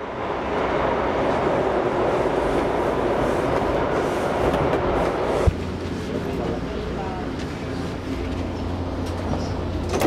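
A passenger train rolls along its rails with a steady, loud rumble and rattle heard from inside the car, holding a constant drone throughout with a slight shift in tone partway through.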